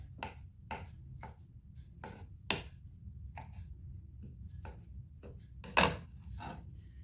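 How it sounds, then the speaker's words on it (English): A knife chops a mozzarella ball into small pieces on a cutting board, with a quiet, irregular series of soft taps and a couple of sharper knocks, close by. "I'm going to chop it up into small pieces."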